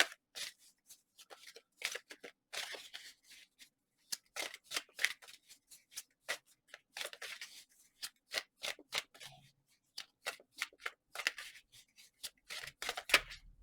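Tarot cards are shuffled by hand in quick, irregular bursts of crisp riffling and flicking, close and quiet, with short pauses between runs and no talking.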